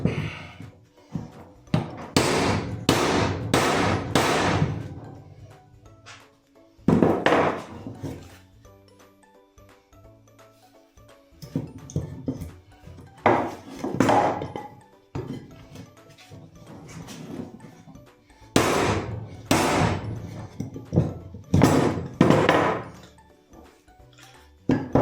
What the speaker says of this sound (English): So there we go, got the old bushing drove out.